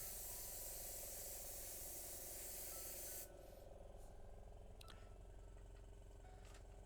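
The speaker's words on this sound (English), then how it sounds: "Test sprays, yeah, it's fine." Short test bursts from a paint sprayer aimed at a 1/35 scale Churchill Mk VII model tank make a loud, close, steady hiss that cuts off partway through, leaving a faint background hum.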